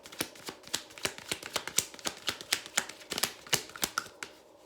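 Tarot cards are shuffled in a rapid string of crisp flicks and snaps, a close, even rhythm of sharp ticks lasting several seconds, with no voices.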